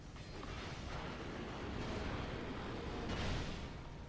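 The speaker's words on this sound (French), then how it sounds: "Il faut faire attention, ils font des explosions comme à chaque fois." Explosions rumble in a Dark Souls II boss fight, a dense, loud wash of booming blasts and crackling debris that swells and surges, peaking near the end with no voices over it.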